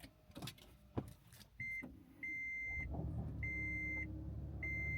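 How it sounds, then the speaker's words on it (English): A car being started: a few clunks and a door-like thud, then a steady low engine hum sets in while a high chime beeps at regular intervals, fairly quiet overall. "Turn on the car."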